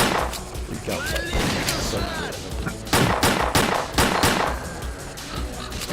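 Shots ring out in S.T.A.L.K.E.R.: Clear Sky, a series of sharp, loud bursts spaced irregularly over game ambience, with voices talking faintly underneath.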